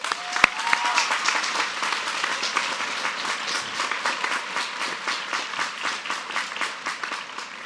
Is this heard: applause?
yes